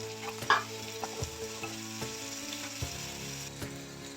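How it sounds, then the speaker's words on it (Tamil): Mustard seeds, fenugreek, onion, curry leaves and green chilli sizzle in hot oil, with a steady crackle, small pops and occasional stirring knocks against the pan, close and fairly quiet. "எண்ணெய் காஞ்ச உடனே கடுகுலேருந்து அப்புறம் வெந்தயம் ரெண்டும் சேர்த்துட்டு வெங்காயம் கருவேப்பிலை பச்சை மிளகாய் எல்லாமே சேர்த்து நம்ம தாளிச்சிடலாம்"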